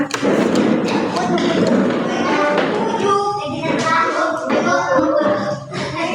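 A class of young primary-school children clapping in a rhythmic pattern in a classroom, continuous crowded patter of hands mixed with children's voices throughout.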